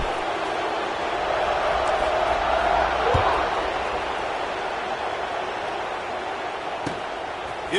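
Crowd buzzing in an American football video game after a touchdown, a steady broad roar of noise that stays loud and unbroken throughout, with a couple of faint thuds and commentary-like voices mixed underneath.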